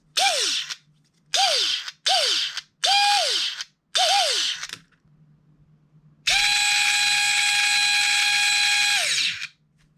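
An airsoft Vector with a DSG gearbox cycles in five short whirring bursts with whining spin-downs, then runs one long sustained whine for about three seconds before winding down. The sound is close and loud, with no talk.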